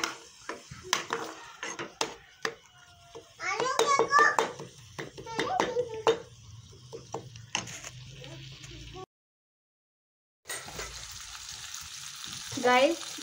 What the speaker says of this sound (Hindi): गाइस, ये अब मैं पिज़्ज़े के लिए चिकन फ्राई कर रही हूँ।